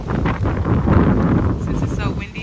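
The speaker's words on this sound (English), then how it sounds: "Why is it so windy?" Strong wind gusting outdoors on a Labor Day weekend outing, a loud continuous rumbling buffet against the microphone with no break.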